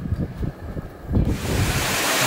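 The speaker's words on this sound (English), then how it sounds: "It's a nice little waterfall down here." Small waterfall about 100 feet high beside the Appalachian Trail near Damascus, Virginia, a steady broadband rush that swells louder partway through and continues alone with some wind buffeting.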